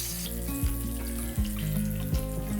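Onions fry in hot oil in a kitchen pan, a steady close sizzle with a faint hum behind it and a few soft knocks as they are moved.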